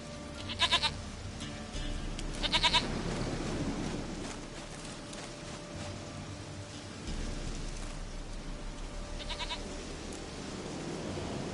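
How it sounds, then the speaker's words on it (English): A goat bleats in the video game The Witcher 3: three short, wavering cries spaced several seconds apart, heard over a steady patter of rain on surfaces. "Goat of mine, dearest, sweetest goat."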